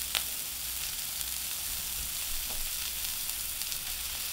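Pork belly sizzling on a Korean barbecue grill, a steady close crackling hiss with scattered small pops as grease drips, continuing evenly for several seconds without talk.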